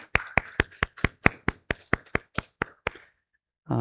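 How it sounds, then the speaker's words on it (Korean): A church congregation claps in welcome during a Korean Sunday worship service, a burst of about a dozen sharp, evenly spaced claps that fade out, followed by a brief pause before talking resumes. "우리 한번 환영의 박수 하시겠습니다"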